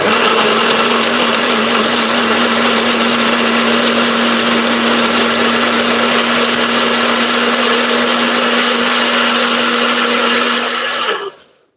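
A blender making herbal juice runs loud and steady with a high whirring motor drone for several seconds, then abruptly winds down and stops.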